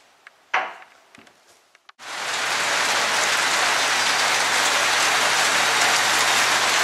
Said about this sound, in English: This is the heavy rain they were talking about?